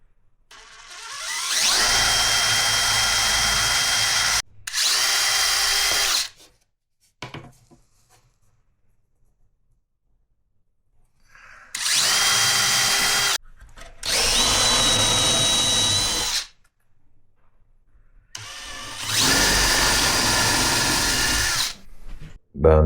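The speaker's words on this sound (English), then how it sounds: "I'm marking the spots for the drill holes to put the outer frame on" Power drill boring holes to mount the outer frame on a DIY digital tabletop gaming table, heard as three long, loud whirring bursts separated by quiet pauses.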